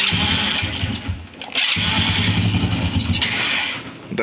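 A motorcycle engine started remotely through an IoT control app cranks and catches, then runs with a rough, loud close-up putter that surges and dips before fading slightly at the end.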